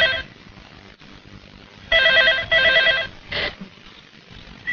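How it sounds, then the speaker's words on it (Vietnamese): Telephone bell rings in bursts inside a house, several loud trilling rings with short pauses between, over a quiet room background with no talk. "có điện thoại."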